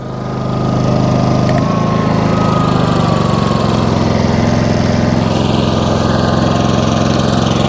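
A Harbor Freight Predator 5000 generator runs under a 1500-watt space heater load, a loud, steady engine drone heard up close near the exhaust, with no talking.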